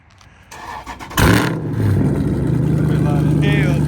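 A Dodge Scat Pack Charger or SRT Jeep fires up with a sharp burst of exhaust and settles into a loud, rumbling idle, with voices talking nearby.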